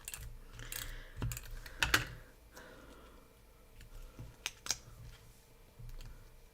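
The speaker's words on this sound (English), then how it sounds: "This little circle is a little bit big. So I'll just cut it down a little bit more." Paper being trimmed with scissors, a few sharp snips spaced out over several seconds against quiet room background, with light tapping and handling noises between cuts.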